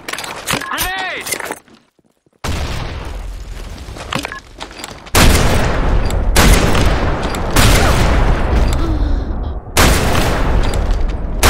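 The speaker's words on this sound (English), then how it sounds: "Fire in the hole! Grenade!" Grenade explosions and gunfire in the shooter Blackshot: rapid shots at first, a brief silence, then several loud booming blasts in succession, each followed by a rumbling decay, with a voice calling out among them.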